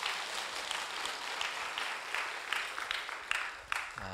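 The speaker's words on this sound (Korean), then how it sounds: "우리 마리아 위해서 다시 한번 박수 한번 해주셔요" Audience applause at a church service for the choir accompanist, a steady patter of clapping from a congregation that continues throughout and thins slightly near the end.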